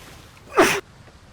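A single sharp sneeze bursts out loud and close, lasting under a quarter second against a quiet background.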